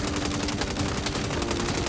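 Video game gunfire in Saints Row Reboot, a dense burst of rapid shots crackling continuously over a loud, busy game soundscape for about two seconds, with no voices.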